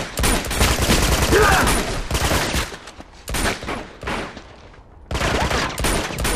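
Bursts of gunfire in Uncharted 2: Among Thieves, with dense rapid volleys filling most of the stretch, broken by short lulls and a final burst, loud and close.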